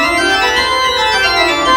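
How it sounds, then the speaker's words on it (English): A pipe organ principal chorus holds a full sustained chord with the mixture stop added, giving a bright shimmer over a steady, loud foundation tone. "if I added it to the principal chorus, it would sound like this"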